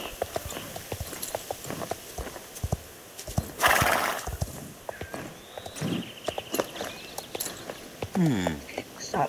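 Horse neighs and hooves clip-clop in the Star Stable video game, with a steady walking beat of hoofsteps, a loud whinny partway through, and game dialogue spoken over the top.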